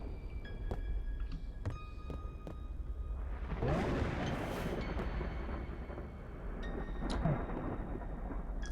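Thunder rumbles over steady rain in a video game, a dense continuous wash with a louder rolling swell midway and another near the end.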